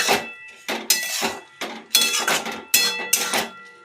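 A metal utensil scrapes and clinks against a wok while vegetables are stirred, several loud, close strokes in an uneven rhythm with short pauses between them.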